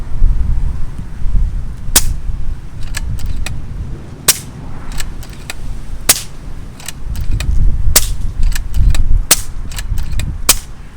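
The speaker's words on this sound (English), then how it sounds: "Right, we're just going to cycle the system and fire a few shots." An AGT Vulcan 2 bullpup air rifle fires several sharp cracks, spaced irregularly among quieter clicks of the action being cycled, loud and close against low background rumble.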